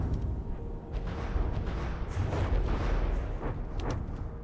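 Heavy naval main-gun fire on destroyers in the game From the Depths, a continuous rumbling barrage of booms and blasts with a few sharper reports near the end.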